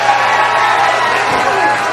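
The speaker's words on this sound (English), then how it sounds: "The crowd is standing here in Los Angeles." A wrestling crowd in Los Angeles roars and cheers steadily as a dense, loud wall of voices with no breaks.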